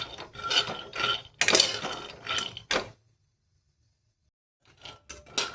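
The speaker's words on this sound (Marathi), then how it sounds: "तर हे बघा, आपले आता शेंगदाणे भाजलेले आहेत. आवाज येतोय ना?" Peanuts roasting in a dry pan, stirred close up with repeated rattling scrapes and clinks of nuts against metal, then a silent pause before a few more scrapes.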